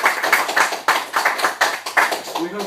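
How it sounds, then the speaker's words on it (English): Audience at an author event in an educational bookshop in Jerusalem applauds in a steady run of close, dense claps that trails off toward the end. "And I want to applaud you."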